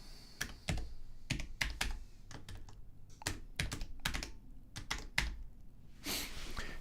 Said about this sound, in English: let's start typing that again